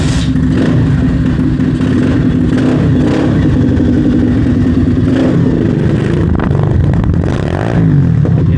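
A motorcycle in a garage starts and runs, its engine clattering and idling loudly up close with uneven revs and a rattly mechanical texture throughout.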